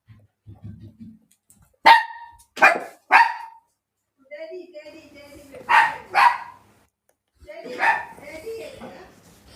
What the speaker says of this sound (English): that's my dog in the background, Bella.